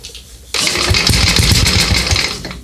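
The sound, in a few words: 1966 Sears Custom lawn tractor engine trying to start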